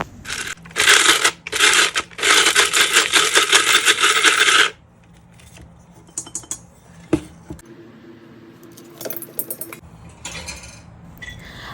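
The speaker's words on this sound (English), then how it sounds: "I'm crushing and making powder of the quantity almost 3/4 of each of the dry fruits" Dry fruits such as almonds, cashews and pistachios are crushed into powder for panjiri, loud gritty rattling bursts for several seconds, followed by quieter scattered clicks and scrapes.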